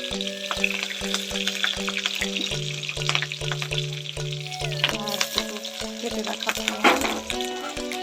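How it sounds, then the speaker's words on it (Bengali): Slit green chilies dropped into hot oil for Bengali mutton kosha, giving a loud, crackling sizzle that continues throughout, with a brief spoken voice and background music. "চিড়ে রাখা কাঁচা লঙ্কা দিয়ে দিলাম।"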